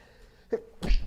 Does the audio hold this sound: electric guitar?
no